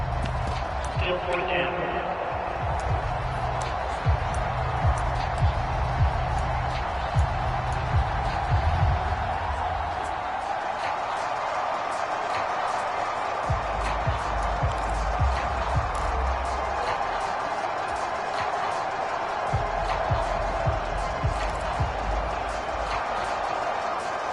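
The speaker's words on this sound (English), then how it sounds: "The crowd's not doing that O-line any favors." Steady, dense roar of a stadium crowd in the Madden NFL 23 football game, a loud game between Los Angeles and Kansas City, rumbling continuously with faint thumps and possible talk underneath.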